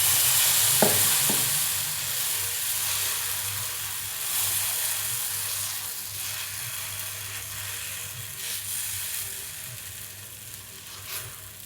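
Oil trickles onto a chibud dhirde, a savory pumpkin pancake on a hot pan, and it sizzles with a steady crackling hiss that holds for seconds and fades slightly, no voices heard.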